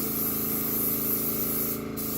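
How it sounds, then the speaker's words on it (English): Spray paint hisses from a can held two or three inches from a miniature figure while flesh tones are laid down, a steady, close, continuous spray that dips briefly near the end, with no talking. "you don't want to just spray and have paint clump up in one spot"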